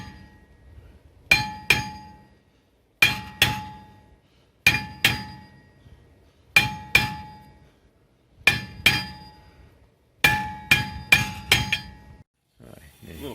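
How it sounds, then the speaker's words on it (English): A hammer taps the seized rear brake drum of a 2007 Honda Pilot in ringing metallic clangs, mostly in pairs and small clusters spaced about a second and a half apart, loud and close with no talk. "And a little tap on the back side evenly all the way around."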